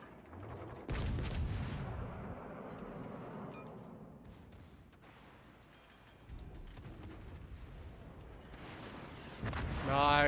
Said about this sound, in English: Okay, secondaries are firing.